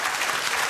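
A brief burst of scattered clapping from a studio audience at a comedy quiz show, filling the room without a pause for under a second.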